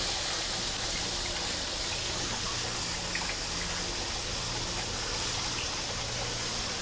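Water rinses perlite and fills a Dutch bucket hydroponic system: a steady, unbroken rush and trickle of flowing water, close and constant, with no talk.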